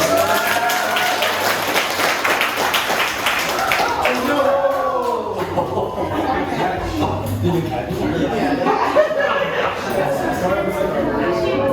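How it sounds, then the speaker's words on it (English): A crowd applauds and cheers for several seconds at a showcase performance, with voices and excited shouting mixed into the clapping. "Can we get a round of applause for Clancy?"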